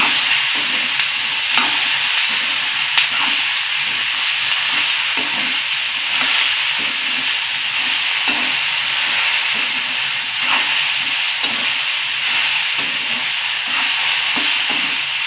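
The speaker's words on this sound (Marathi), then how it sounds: "भाजी हलवून घेऊया चांगली." Okra (bhindi) sabzi being stirred in a frying pan, a steady close sizzle with repeated scraping strokes of a spatula throughout, no voices.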